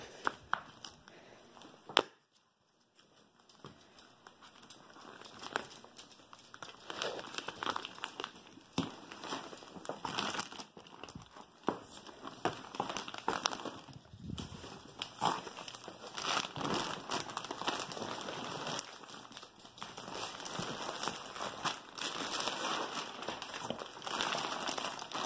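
Plastic wrapping from a Zinus memory foam mattress being handled and crinkled, a long stretch of close, irregular crackling and rustling bursts that build in density, with a brief quiet pause near the start.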